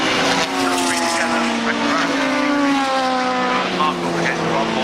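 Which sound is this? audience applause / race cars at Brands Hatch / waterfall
race cars at Brands Hatch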